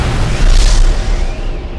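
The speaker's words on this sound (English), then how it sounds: "Mech destroyed explosion." A huge explosion as a very large mech robot is destroyed in a video game, a loud, deep boom that bursts at once and rolls off over about two seconds.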